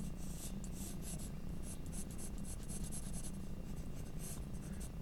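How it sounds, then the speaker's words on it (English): Pencil sketching a cartoon fox on paper, continuous quick scratchy strokes in short repeated bursts, close and fairly quiet, with no voices. "Just kind of sketching it out."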